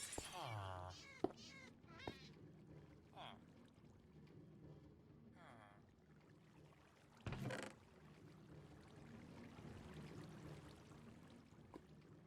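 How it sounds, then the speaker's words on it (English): Cats meowing in Minecraft Bedrock Edition around an iron farm, a few short, fairly faint mews scattered among soft game sounds and clicks, with a loud burst midway. "As you can see, we're already spawning cats."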